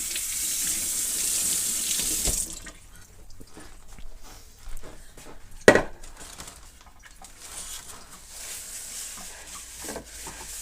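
A kitchen tap runs hard into a sink to rinse food for a couple of seconds and then shuts off. Quiet handling noises follow, with one sharp knock.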